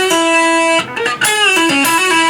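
Distorted electric guitar plays a short lead phrase, with a sustained bent note and then quick hammer-on and pull-off notes, loud and close, alone.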